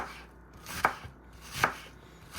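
Onions being chopped with a knife on a cutting board, two distinct firm chops about a second apart, close and clear with no talking.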